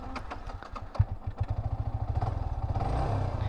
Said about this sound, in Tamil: வண்டி வந்து ஸ்டார்ட் ஆகிடுச்சு